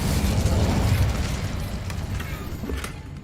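A loud, sustained blast of the Incendio fire spell, a dense roaring burst that holds steady for a few seconds and then eases slightly, with no talk over it.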